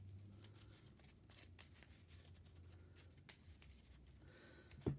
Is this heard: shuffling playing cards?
yes